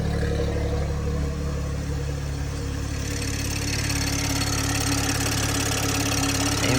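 A turbocharged BMW Z4 engine idles steadily, a low, even rumble with a faint rattle running throughout, close by and with no voices.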